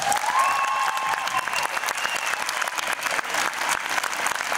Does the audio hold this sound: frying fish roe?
no